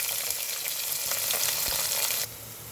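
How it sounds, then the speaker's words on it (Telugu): Onion with mustard seeds and cumin frying in hot oil in a pan, a loud dense sizzle with occasional pops and crackles, heard up close with no talking, dropping off suddenly near the end. "కొద్దిగా ఆవాలు వేసుకుందామమ్మా, సగం స్పూను జీలకర్ర,"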